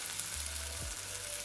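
A soft, steady sizzle of cheese melting in a hot skillet for a keto breakfast, faint and continuous with a brief low thump in the middle.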